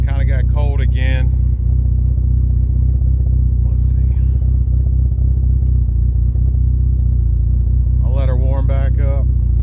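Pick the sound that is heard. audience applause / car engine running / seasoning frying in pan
car engine running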